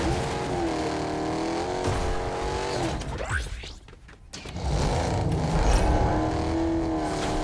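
Engine of a car driven in a video game, a steady revving drone with shifting pitch, a brief drop and whooshing pass in the middle, then renewed loud acceleration.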